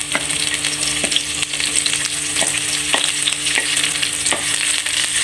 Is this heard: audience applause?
no